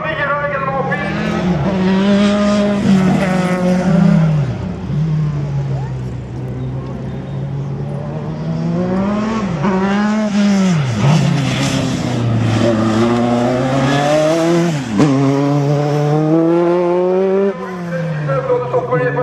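Race cars running a slalom course at a motorsport event in Le Neubourg: engines rev up and down in repeated rising and falling sweeps as cars accelerate and brake between cones, fairly close, with a commentator's voice over them.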